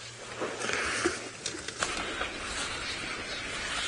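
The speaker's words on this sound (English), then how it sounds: "There are birds shouting, so he thinks she's close by." Birds call in the African bush at sunrise on a safari drive, with repeated cooing, dove-like calls over a steady outdoor background and no talking.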